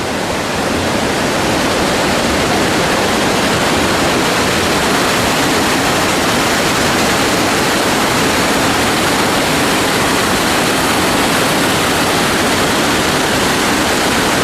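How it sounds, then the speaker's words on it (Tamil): Steady, loud roar of a waterfall pouring down beside a hillside cave in the Kolli Hills, a dense unbroken rush of water for the whole stretch with no voices. "இந்த பாம்பாட்டி சித்தர் குகை அருகிலேயே ஒரு நீர் அருவி ஓடிக்கொண்டிருக்கிறது"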